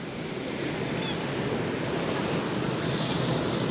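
Sea waves wash onto the beach at Lazarevskoye's central waterfront on a hot day, a steady broadband surf roar with some wind rumble on the microphone, continuous and fairly close, without talk.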